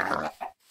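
A pig oinks in a farming survival video game, a short grunting call followed by a second fainter grunt, close and clear with no talk over it.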